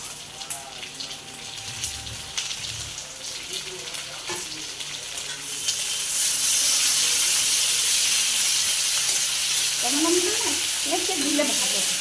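Tomato with ginger garlic paste frying in a pan for soyabean egg curry, a soft sizzle with occasional stirring that swells into a loud, continuous hissing fry halfway through, close and without talk.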